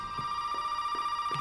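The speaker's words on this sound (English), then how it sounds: "Gonna like trigger a phone call by just doing that." A telephone rings inside the Resident Evil 7 video game, a steady electronic tone with faint pulsing over quiet game ambience, no voices.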